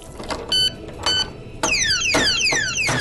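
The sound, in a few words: alarm lock siren sounding underwater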